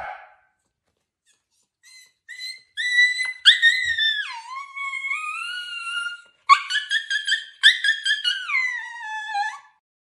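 A person imitates a dog's barking at a sleeping dog, giving short yelping, whimpering vocal bursts in uneven clusters, close and fairly loud, with brief silent gaps between them.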